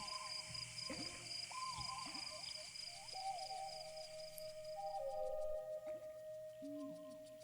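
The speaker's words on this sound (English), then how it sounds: "Oh, that's the owl making that noise." Owl hoots ring out several times amid the ambient nighttime soundscape of the exploration game Proteus, set over steady soft tones and a sustained synth drone, with no voices.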